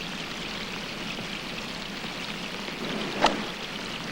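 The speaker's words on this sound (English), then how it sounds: "Now Lyle with a 1-iron with the rain hammering down." Heavy rain hammers down on a golf course, a steady even hiss of downpour throughout, with one brief sharp knock near the end.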